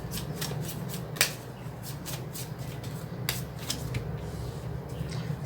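Tarot cards are handled and shuffled at close range during a reading, giving a steady stream of crisp papery riffles and snaps with a few sharper flicks as cards are drawn, over a low background hum, with no talk.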